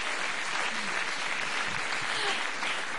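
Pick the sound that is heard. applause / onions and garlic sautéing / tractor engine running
applause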